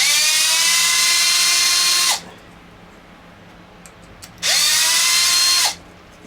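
A power driver removing the canopy screws on an Arrma Typhon 6S RC car whines loud and close in two bursts, each lasting about one to two seconds, with a pause between them and no talking.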